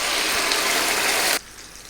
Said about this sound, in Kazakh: Ең алдымен осындай тауық етін тапаға қуырып аламыз.